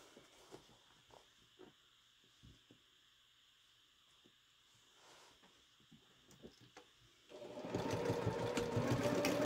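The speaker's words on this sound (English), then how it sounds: "And I'm back stitching on both sides, on both ends" A sewing machine back stitching the quarter-inch seam of a triangle fabric pouch: soft handling taps and clicks at first, then the motor runs in a close, steady, loud burst for the last two seconds.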